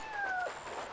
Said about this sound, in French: Il y a un chat.